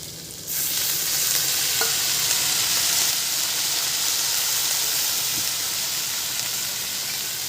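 Leafy greens hit hot oil in a pan with fried potatoes, bursting into a loud, steady sizzle and hiss that continues throughout with no talking.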